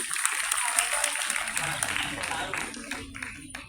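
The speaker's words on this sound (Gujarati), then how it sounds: "તો આપણે બધા તાળીઓના ગણગણાટથી અમે વધારી લઈશું." Applause from an audience at a school Republic Day celebration, a moderate patter of hand claps that fades near the end, with a voice speaking over it.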